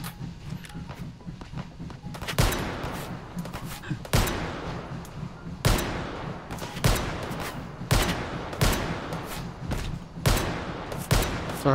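Gunfire in the VR shooter Hot Dogs, Horseshoes & Hand Grenades comes as loud, sharp bursts of rapid shots, about every second or two, each trailing into a brief echo, with lighter clicks and handling noise between volleys.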